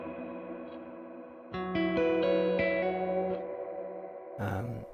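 A Meris Mercury X reverb pedal with its mix raised washes sustained guitar notes into a lush, shimmering stereo tail, with a few plucked notes blooming and a brief brighter swell near the end.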